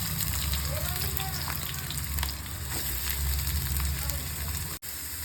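Chopped onions frying in hot oil in a home kitchen pan, a steady dense sizzle and crackle lasting several seconds with a brief stir, no talking over it.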